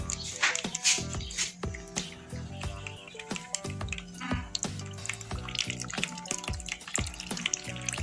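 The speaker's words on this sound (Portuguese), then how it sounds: "olha só como vai sair a água toda pelos furinhos" Water drains out through the holes in the bottom of a plant pot layered with charcoal, a continuous close trickle and splashing drip that runs for several seconds without talk.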